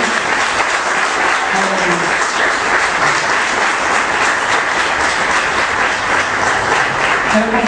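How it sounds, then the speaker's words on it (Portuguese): A church congregation applauding during the offering, dense sustained clapping filling the room at an even level throughout, with a few faint voices underneath. "Então aplauda o Senhor"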